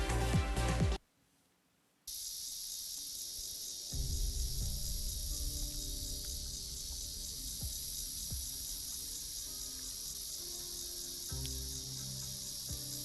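Steady high-pitched cricket chirring from the Arknights game ambience, a continuous shimmering drone that briefly drops out near the start, then resumes with soft low game sounds and faint clicks beneath it.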